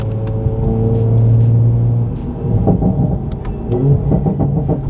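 A Toyota A90 Supra fitted with a Magnaflow X-Mod active exhaust in sport mode rumbles deeply at close range, the engine note rising and swelling in waves.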